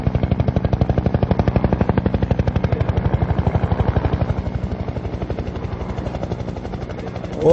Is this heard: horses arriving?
no